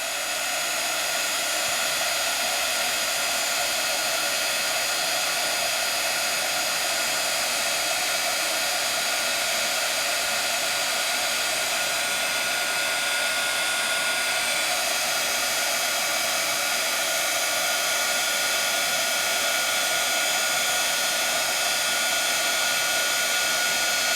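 Heat tool blowing steadily on Creative Expressions Fluffy Stuff paste during a papercraft project, a loud continuous hiss and fan whir lasting throughout with no talking.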